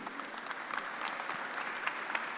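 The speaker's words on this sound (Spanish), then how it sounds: "Recibamos con un fuerte aplauso, por favor, en este Encuentro Nacional Anticorrupción" An audience at a national anti-corruption conference claps steadily for a panel moderator, a continuous even spread of many hands at moderate distance with no speech over it.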